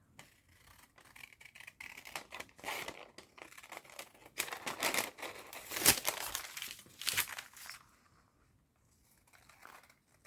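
Paper being folded for a journal folder crinkles and rustles up close in bursts of handling, with a sharp crisp peak partway through before it quiets down.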